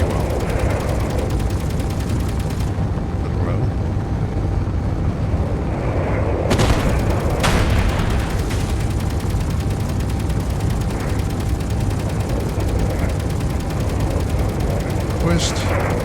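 Rapid guns firing in the space game Space Engineers, a dense continuous rattle of shots with a few louder bursts, heard at length under faint talk.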